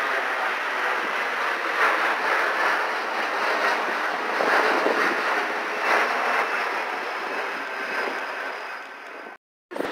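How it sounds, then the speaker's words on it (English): Steady wind blowing at Ocean Beach, a broad continuous rushing roar that holds for most of the stretch, cuts out briefly near the end, then returns. "it's windy."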